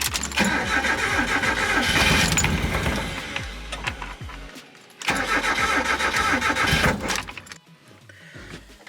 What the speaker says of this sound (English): So now let's see if I can get it into gear and start driving it.